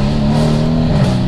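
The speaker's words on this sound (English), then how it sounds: "The V8 sound." A 620 bhp Mercedes C63 S AMG V8 engine revs loudly and close by, a deep continuous growl with strong low harmonics throughout.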